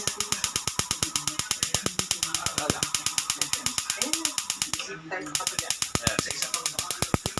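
A gas range burner's igniter clicks rapidly and evenly in a long, steady train of sharp ticks, with a brief pause partway through, while people talk quietly underneath.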